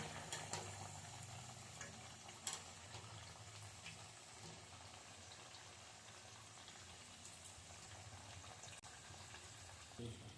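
Jackfruit seed vade deep frying in hot oil, giving a steady, even sizzle and crackle throughout, with an occasional sharper pop or spatter.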